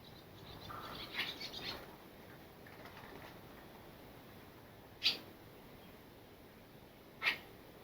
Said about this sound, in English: I put all that fishing line up there to prevent those birds from coming in and building their nests